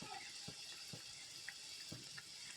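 A steady, soft rush of water being poured into a cooking pot, about one tumbler's worth, for a mutton curry, with faint splashes and drips now and then; no voices.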